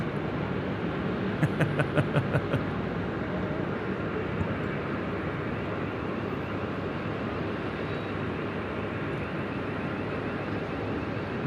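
Aircraft engines spool up at Sydney Airport, a steady broadband roar heard from a distance that stays fairly constant throughout, with a faint voice in the first few seconds.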